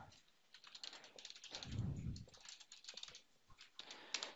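Quick, light keystrokes on a computer keyboard, a steady run of clicks with a brief pause, recorded close and fairly quiet with no talking.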